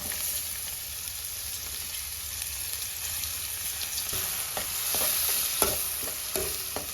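Chopped garlic cloves and green onion frying in a pan, a continuous sizzle with repeated stirring scrapes and clicks growing busier toward the end, no speech.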